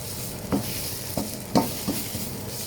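Curry paste frying in a pan over lowered gas, a steady soft sizzle with a few brief stirring scrapes at irregular intervals, close and fairly quiet.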